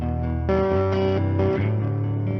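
An electric guitar plays through an EHX Percolator fuzz pedal with the bias turned up, giving loud, gritty, sustained distorted notes that shift in pitch a few times, heard alone.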